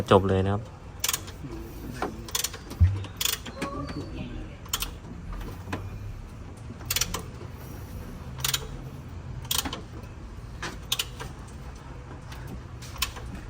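A mechanism turned by hand through a few rotations gives sparse, sharp clicks and ticks at irregular intervals over a quiet background, with someone speaking faintly at moments.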